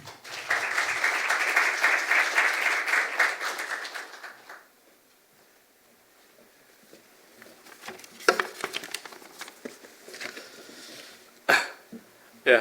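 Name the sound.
applause welcoming vice director Kim Seok-geun at graduation ceremony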